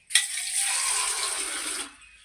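Cold water gushing from a village tap at a roadside drinking stall, a short steady splashing rush that starts abruptly, holds for nearly two seconds and then cuts off.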